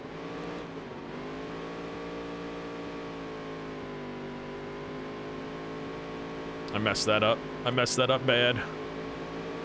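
A race car engine drones steadily in the Dirt to Daytona racing game, rising into loud revving bursts near the end, with someone talking over the first part.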